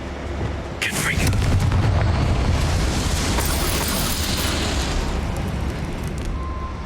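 Confringo fire spell blast in Hogwarts Legacy: a sudden loud explosive burst that swells into a sustained, rumbling roar lasting several seconds before easing slightly.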